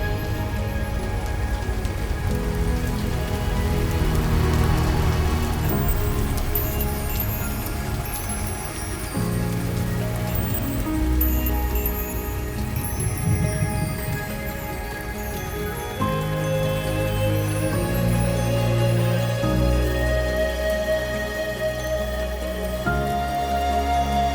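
Steady rain patters continuously on surfaces, a dense wash of droplets with soft music-like tones layered underneath throughout.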